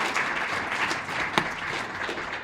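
An audience applauds after a presentation on trauma in mountain biking, a brief, fairly even wash of clapping at moderate distance, with one sharper clap standing out near the middle.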